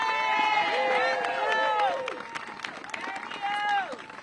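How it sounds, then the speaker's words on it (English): Political rally crowd cheering and applauding, loud and close, with whoops and shouts over sustained clapping that eases off before a second swell of cheers. "So give yourself a round of applause."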